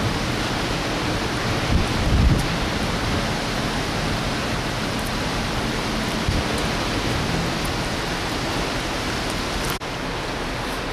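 Steady rain falls on a ship at sea in the Arctic on a cloudy, foggy morning, a constant broadband hiss with occasional louder spatters, alone without talk.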